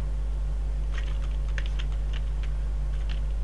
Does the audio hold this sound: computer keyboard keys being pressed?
yes